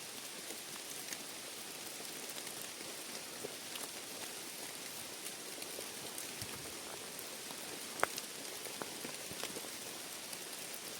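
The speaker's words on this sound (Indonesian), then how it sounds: "Dan hujannya semakin deras aja." Steady rain falls through a countryside forest in rural Japan, a dense continuous patter of drops on leaves and ground with one sharper nearby drip, no voices.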